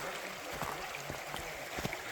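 Creek water runs steadily over a rocky creek bed along a bluff-lined hiking route, giving a constant broadband rush with a few soft knocks and splashes.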